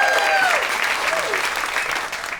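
A stand-up comedy audience breaks into loud, steady applause that fills the room, with a few cheers rising above the clapping and tapering slightly toward the end.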